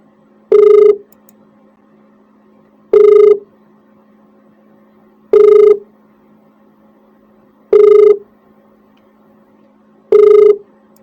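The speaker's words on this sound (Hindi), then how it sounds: "आ गया फोन" A telephone rings with an incoming call, five evenly spaced electronic ring bursts about every two and a half seconds, loud and clear with no talk over them.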